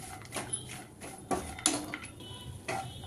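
Halved cashews being stirred and roasted in a pan for poha chivda, with scattered light scraping and clinking of a utensil against the metal, faint and intermittent.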